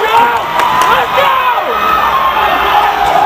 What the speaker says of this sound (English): the crowd is getting loud to help support the Cheltenham defense